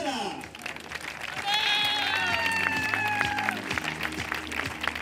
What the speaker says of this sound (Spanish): Ese fuerte aplauso para todos ellos que van a hacer posible esta gran final.